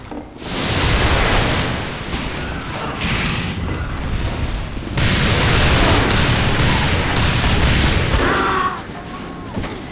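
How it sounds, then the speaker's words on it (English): Heavy, continuous gunfire and booming impacts in Team Fortress 2 aimed at sentry guns, a loud dense barrage running nearly ten seconds with a short lull near the middle and a quieter tail at the end. "Turns out, shooting at sentry guns is not always the best idea."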